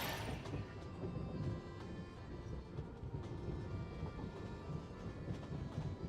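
Train in the Genshin Impact video game, a continuous low rumbling rattle with faint rhythmic clatter, steady and moderately loud throughout.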